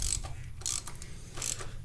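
Ratchet tightens a bolt underneath an Audi A3 1.9 diesel during an oil and filter change, three quick rasping clicks in a steady back-and-forth rhythm, close and clear with no talking.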